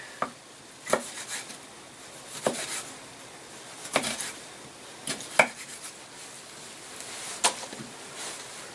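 Tomatoes being chopped with a knife on a cutting board for green garden salsa, a series of about eight sharp, close chops at irregular intervals over quiet background.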